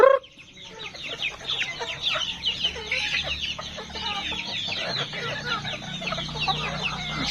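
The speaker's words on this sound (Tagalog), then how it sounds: "nagpapakain tayo ng mga alaga nating manok dito sa farm" Farm chickens cluck busily as they are fed azolla, making many overlapping short clucks and squawks close by in a continuous chatter with no voices.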